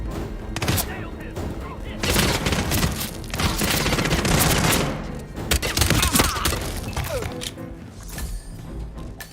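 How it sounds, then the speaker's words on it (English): Gunfire in the video game Hitman 3, rapid loud bursts of shots and volleys over several seconds with mechanical clatter, while voices shout over it. "Fire at will!"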